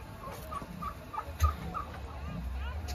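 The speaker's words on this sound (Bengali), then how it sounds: "হ্যাঁ দেখো কত রকম প্রজাতির মুরগি আছে," Chickens of many different breeds gathered together give faint, scattered clucks and short calls at a distance, mixed with low background rumble and no clear speech.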